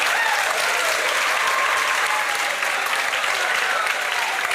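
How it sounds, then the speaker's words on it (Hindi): Loud, dense applause from a crowd celebrating a newly selected Haryana electricity department junior engineer, steady and sustained with no pauses. "जोरदार तालियां बजाओ"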